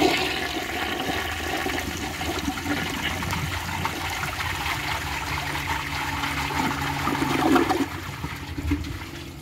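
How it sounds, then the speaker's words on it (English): A 1989 Crane Radcliffe toilet fitted with a generic flapper flushes loudly and close, a sustained rushing swirl of water that builds slightly then trickles on as the tank refills. "It's got a pretty nice flush."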